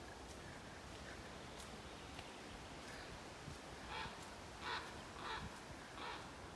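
Ravens calling from treetops during a windy walk, a few distant hoarse caws spaced apart over steady wind noise, faint and far off.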